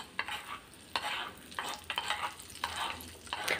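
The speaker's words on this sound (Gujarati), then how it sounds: "તેમાં આપણે અડધી ચમચી કાશ્મીરી લાલ મરચું પાવડર એડ કરીશું અને સારી રીતે મિક્સ કરી" Kashmiri red chilli powder stirred into hot oil for a dal tadka, giving a soft sizzle with repeated scraping strokes of a spoon in a small pan, close and fairly quiet.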